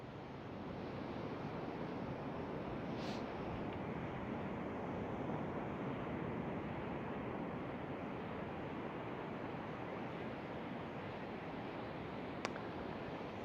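Ocean surf rolls in continuously with steady broadband roar, wind buffeting across it at a constant level, no voices present.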